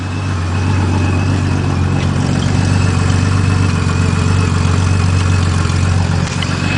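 A 1989 Jeep Cherokee engine idles steadily after a cold start, a loud, close, even low rumble with a constant hum and no talk.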